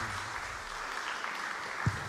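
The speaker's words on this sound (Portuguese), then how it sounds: "dê uma grande salva de palmas para esse Deus" Congregation applauding during a Sunday morning communion church service, a steady wash of clapping filling the room with one louder thump near the end.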